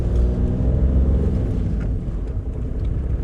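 An Audi A2 TDI 90 diesel engine runs close by with a loud, steady low rumble and a throbbing tone that eases slightly toward the end.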